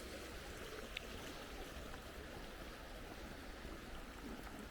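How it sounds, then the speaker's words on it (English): A brook in the Ribble Valley near Downham: faint, continuous rushing and trickling of running water, steady and unbroken throughout with no voices. "The only sound you can hear around here is the brook."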